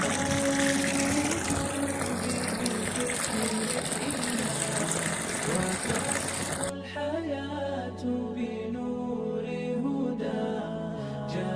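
Water pours steadily from a tube well in Sri Lanka, a continuous rushing gush that drops to a lighter trickle partway through, with a motor-like hum and faint voices in the background.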